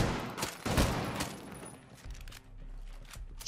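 Shotgun and other gunfire in the video game Ghost Recon Breakpoint, a rapid series of sharp blasts close together early on, then sparser shots over a low steady hum.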